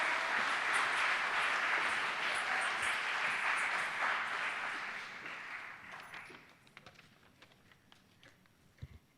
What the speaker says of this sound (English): let's please give a very warm round of applause for our star,